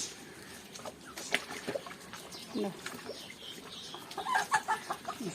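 Native hens cluck at a home poultry coop in short scattered bursts against a busy outdoor background, the calls growing more frequent and overlapping toward the end.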